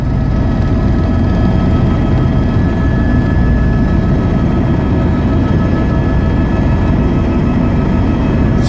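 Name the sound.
helicopter flying over Kumbh at Sangam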